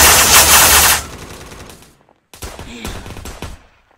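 Loud rapid automatic gunfire in a Roblox SCP roleplay game: a dense burst that cuts off, a short gap of near silence, then a second, slightly quieter volley of shots.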